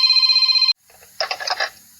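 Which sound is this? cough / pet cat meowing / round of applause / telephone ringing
telephone ringing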